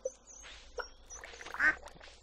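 Ducks quacking in the Stardew Valley farming game, a few short quacks scattered over two seconds, a louder nasal one near the end, fairly quiet with no talk.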